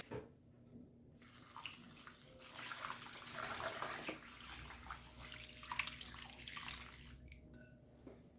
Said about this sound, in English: we're going to fill this crock pot up with water